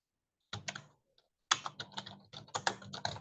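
Typing Lua code on a computer keyboard, close and crisp: a short burst of clicking keystrokes, then a brief pause, then a longer flurry of rapid taps in uneven rhythm, with no voices.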